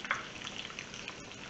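Salmon croquettes browning in a pan make a quiet, steady sizzle with faint crackles. The sound is brief and soft, and no one speaks.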